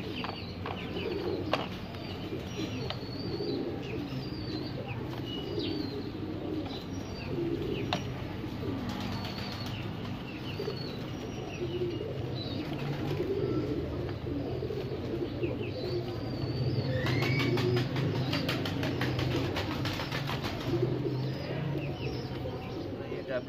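Domestic pigeons kept by a flying-pigeon breeder coo softly and steadily over a constant background murmur, with occasional chirps and faint movement around the loft.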